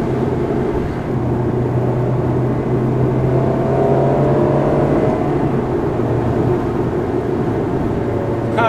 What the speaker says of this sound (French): Les petites départementales dans la Ferrari, c'est un régal.